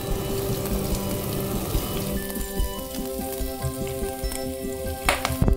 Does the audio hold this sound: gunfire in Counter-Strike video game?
no